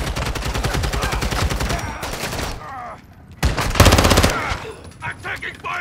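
Sustained automatic gunfire in Call of Duty MWII DMZ, long rapid rattling bursts broken by a short pause before another loud, close volley, with some talk underneath.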